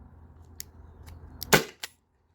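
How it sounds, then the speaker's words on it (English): A single sharp shot from a Byrna SD launcher fired over a chronograph rings out loud and close, with a few faint clicks before it and a short second crack right after. "I'm just gonna do 5 shots with each launcher"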